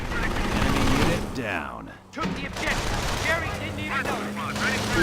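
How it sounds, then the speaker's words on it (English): In the Company of Heroes video game, an aircraft strafing run rakes the ground with a dense burst of rattling gunfire under engine drone, while a voice says a short word over the din. "Ooh, they strafed the Pios there."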